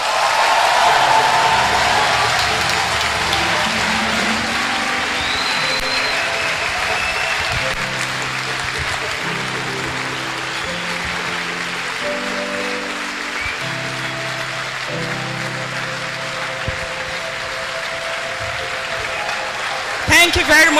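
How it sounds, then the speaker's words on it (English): An audience at a university convocation lecture applauds in a long, dense, steady wash of clapping that slowly fades, with someone talking over it on a public address system. "Please, let's keep the applause."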